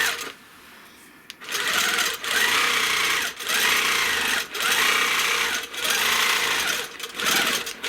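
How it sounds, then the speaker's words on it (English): A Handy Quilter Forte longarm quilting machine stitches a fabric quilt border, running in loud steady bursts of rapid mechanical whirring separated by brief pauses, after a quiet opening second. "So I'm trying to kind of stitch with that 1/4 inch, tracing along the spiral that I've already stitched."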